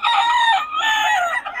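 A rooster of Mount Banahaw gamefowl lines gives one close, clear crow lasting under two seconds, with a short break partway through.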